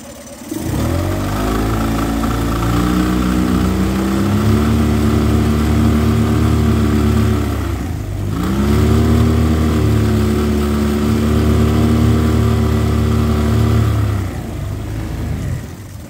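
A Mariner 9.9 four-stroke outboard motor runs steadily up close, its engine note shifting slightly in pitch with a brief dip midway before settling back into a continuous hum.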